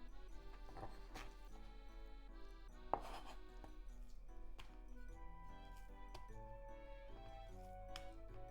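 A knife chops chicken into sticks on a board, giving scattered faint taps and one sharper clack, quiet and close with background hum and no talk.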